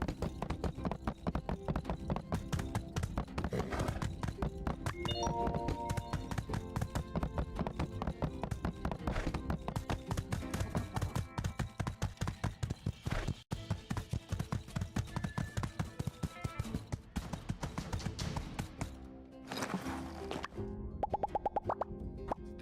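A horse's hooves clip-clop steadily in a video game, a continuous rhythmic trot running almost the whole time under game sounds and music, then breaking off near the end.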